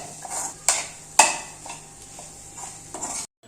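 A utensil mixes egg into a cooking dish, scraping and clinking against the pan in a few sharp knocks over soft stirring, then stops abruptly.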